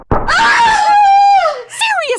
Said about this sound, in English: could you please scream in somebody else's ear?